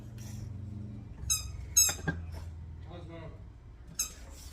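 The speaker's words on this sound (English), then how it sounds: "you hear squeaking in the background, it is my doggy." High, squeaky yelps from a dog come in short bursts, a few of them, over a low steady hum and faint background talk.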